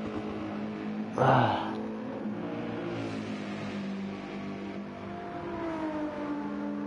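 A race car in Gran Turismo 7 at Brands Hatch drives into the pits: a close engine drone with a sharp burst early on, then a steadier hum that shifts pitch as the car slows, with a commentator talking faintly.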